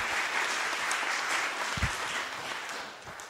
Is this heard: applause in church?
yes